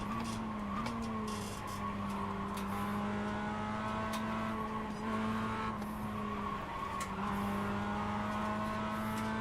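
Mazda MX-5 race car lapping Lime Rock Park, heard from inside the car: a steady engine drone with shifting pitch as it revs and changes gear, and brief tire squeals, loud and close throughout.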